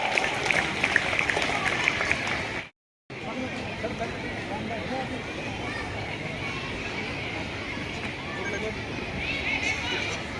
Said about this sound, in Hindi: ताली बजा करके सतीश सर का स्वागत करें, जोरदार तालियों के साथ